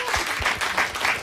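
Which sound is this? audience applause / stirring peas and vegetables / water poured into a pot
audience applause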